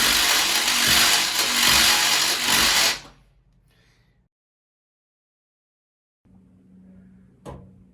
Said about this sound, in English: I've got a deburring tool that I will use right after this.